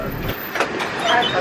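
A Walt Disney World monorail train rolls along with a steady loud rumble and faint rail squeals, while voices talk over the ride noise.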